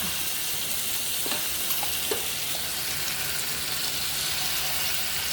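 Chicken frying in a pan, a continuous, even sizzle filling the whole stretch with a few faint clicks of a utensil, no voices.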